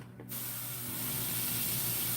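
Spray paint hisses from a can onto a painting of a palm frond, a steady close hiss that starts abruptly and holds without a break.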